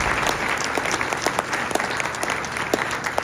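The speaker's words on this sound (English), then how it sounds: "Let's give her a big round of applause." A crowd at a political gathering in Arizona claps loudly and continuously. The applause is close and dense, with sharp individual claps standing out throughout.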